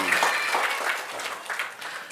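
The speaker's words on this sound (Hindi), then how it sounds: "तो तालियां इन 3 हॉलो सिलेंडर्स के लिए।" Applause from an audience at a live magic show: a dense, continuous wash of clapping from many hands, fairly close and steady for its whole short length, with no talk over it.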